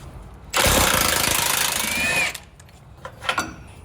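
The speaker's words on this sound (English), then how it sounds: "going to grab my impact, a 21mm socket, and a long extension" An impact wrench with a 21mm socket on a long extension zips off a Jeep Wrangler JL control arm bolt, a loud rattling burst of nearly two seconds followed by shorter taps and clanks of the tool nearby.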